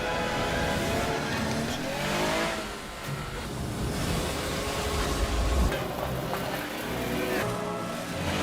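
A car from the anime Ponyo drives through a storm, with a steady engine drone and road rumble mixed with wind and rain noise, moderately loud and continuous, with other sounds layered over it.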